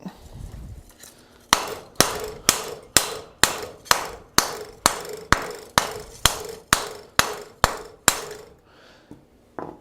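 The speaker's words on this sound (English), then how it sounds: "we're going to hammer the rest of it" Rhythmic metallic clangs of a hammer forging a steel heart bowl, about sixteen evenly spaced ringing blows, close and loud, with brief quiet before and after.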